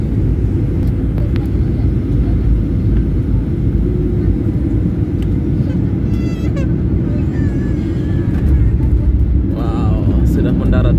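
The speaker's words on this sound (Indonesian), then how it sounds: "Oke, sekarang kita udah mau mendarat di Lombok Tengah Praia." Cabin rumble of a Lion Air passenger jet on landing approach at Lombok, a loud, steady low roar that persists throughout with brief faint tones and voices on top.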